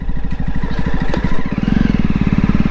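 Exhaust of a Jawa BS4 motorcycle riding through a congested area, a loud, close, steady low thumping beat that quickens slightly as the engine picks up toward the end.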